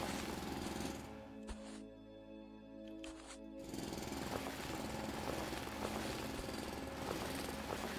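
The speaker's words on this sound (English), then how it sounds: "The drill is peaceful, don't worry." In the factory video game Foundry, a mining drill runs with a loud, steady mechanical rumble and rapid pounding rattle, pausing briefly before starting up again at full strength.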